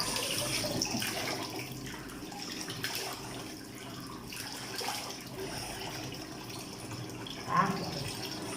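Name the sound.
water running while rinsing face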